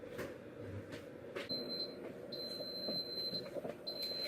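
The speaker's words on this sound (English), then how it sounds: "that beeping indicates that it is our last 3 minutes of our frozen pizza are finally done" Timer beeps from an air fryer cooking a frozen pizza: thin high-pitched tones in repeated short bursts, faint over a low steady background hum.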